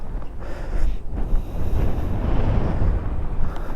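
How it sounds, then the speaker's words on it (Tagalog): Strong wind gusting across an outdoor campsite, a steady loud rumbling roar with buffeting on the microphone and no clear speech. "Ang lakas ng hangin."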